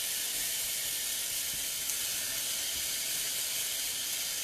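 A bison burger sizzles in a pan after being flipped, a steady, even hiss that holds without a break, fairly quiet and with no talking over it.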